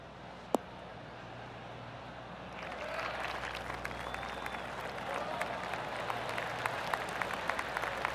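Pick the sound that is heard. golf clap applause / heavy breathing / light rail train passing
golf clap applause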